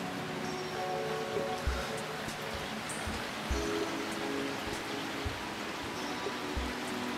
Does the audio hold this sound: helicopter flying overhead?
no